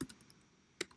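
A few quick keystrokes on a computer keyboard, sharp isolated clicks with a short pause before a final cluster, close and fairly quiet.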